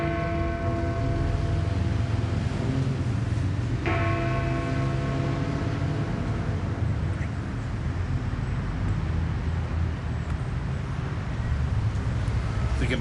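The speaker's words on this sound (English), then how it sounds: "the Big Ben chimes have begun" The Big Ben bell chimes in London, with bell strikes ringing out and sustained tones decaying over steady traffic noise and ambient hum.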